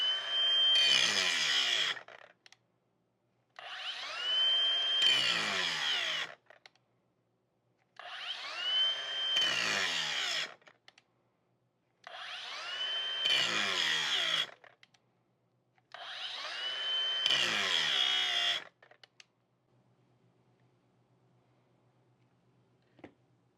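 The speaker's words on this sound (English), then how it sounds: "Next up is our brushless Hart." Hart brushless angle grinder running in five bursts of roughly three seconds each, its high whine spinning up and winding down between short pauses, close and loud, followed by quiet.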